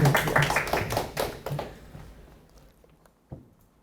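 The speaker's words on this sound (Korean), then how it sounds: "여러분들 박사님께 박수 한번 부탁드리겠습니다" An audience at a talk show with a veteran prison warden claps for a guest: a brief burst of dense hand claps up front that quickly tapers to a few scattered claps and near silence.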